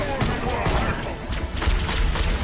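A pistol fires in rapid succession in the video game Halo Infinite, a dense run of punchy shots with booming tails across the whole stretch.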